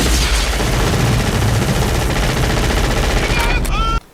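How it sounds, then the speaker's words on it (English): Sustained machine gun fire roars loudly and continuously through a jungle firefight scene from the 1980s film Predator, with several weapons blazing at once before the barrage cuts off abruptly near the end. "They shooting with machine guns"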